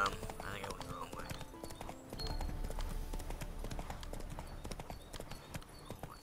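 Horse hooves clip-clop in a video game, a steady, close rhythmic trot of hollow knocks under a player's talk.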